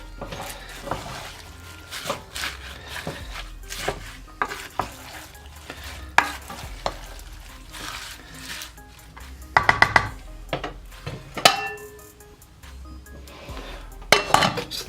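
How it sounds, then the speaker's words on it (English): A spoon stirs kale into vegan chilli in a rice cooker pot, making repeated scraping and clinking strokes against the pot with soft wet squelches, close and irregular, with quiet pauses between bursts. "So I'm just going to mix this kale in a little bit"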